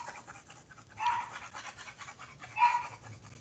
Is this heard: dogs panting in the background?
yes